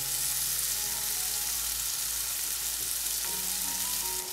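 Tomatoes fry over a high flame in a continuous loud sizzle, then a short stirring scrape comes near the end, all close with no voices.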